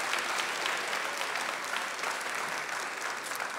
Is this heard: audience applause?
yes